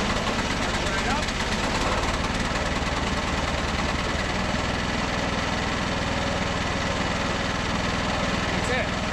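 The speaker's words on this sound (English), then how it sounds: "I just turned the key once and boom, it fires right up" A timber mill's engine fires up and settles into a steady, loud idle, a continuous mechanical rumble with a rapid knocking pulse, close by and unbroken throughout.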